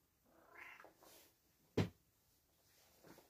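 A shop cat gives a few soft, close meows in a quiet workshop, followed by a sharp, brief knock or bump midway.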